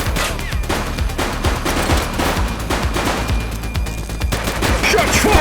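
Gunfire erupts during a police shootout in the video game The Precinct, with rapid bursts of close, loud shots that overlap into a dense fusillade for several seconds.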